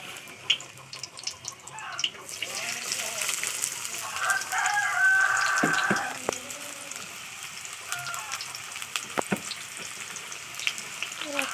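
Sliced onions tipped into hot oil for a crispy aloo fry, giving a steady, close frying crackle that swells midway, with scattered pops and faint background sounds.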